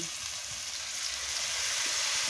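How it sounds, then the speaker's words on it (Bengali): Chili powder and turmeric paste with a little water frying in a pan for a cauliflower fish curry, giving a steady, soft sizzle throughout with no talking. "মশলাটাকে ভালো করে কষিয়ে নিচ্ছি"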